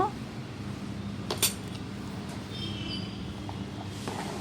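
A pressure cooker lid is shut over rice cooking for moong dal pongal, giving one sharp metallic clank amid a quiet, low kitchen background.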